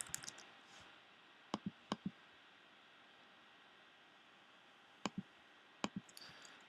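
Computer mouse clicks during a WordPress editing session, sharp double clicks in small clusters separated by long quiet pauses, close and alone.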